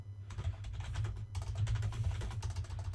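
Steady, fast typing on a computer keyboard, close and continuous with dense clicking keystrokes and a short pause partway through, no voices.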